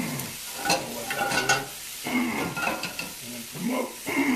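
Onion and zucchini cook in a pan for chicken and vegetable fajitas. A soft, close sizzle comes in uneven bursts, broken by stirring scrapes and short pauses, at a fairly low level.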